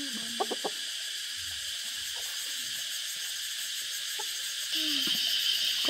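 Chickens clucking on a rural farm among the vegetable garden, a few short clucks and calls near the start with more at the end, set against a steady background hiss of insects or ambience.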